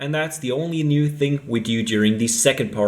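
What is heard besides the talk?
No everyday noise stands out behind the speech.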